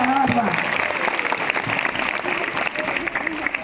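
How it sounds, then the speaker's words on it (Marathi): A brief burst of audience applause for a student play in a school hall, steady clapping with a voice speaking over it near the start. "जोरात टाळ्या वाजवा."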